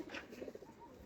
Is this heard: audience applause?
no